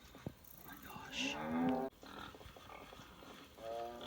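Cows and bulls on a farm moo in a few drawn-out, close calls with short pauses between them, against faint outdoor background noise and no talk.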